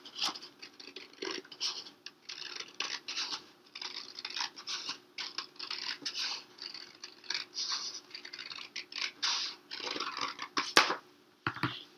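Scissors cut through paper for a Chinese lantern craft, making a steady run of close, crunchy snips and rustles for about twelve seconds with brief pauses, and nobody speaking.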